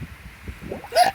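A single sharp hiccup sounds at a pool, short and abrupt at the end of a quiet stretch.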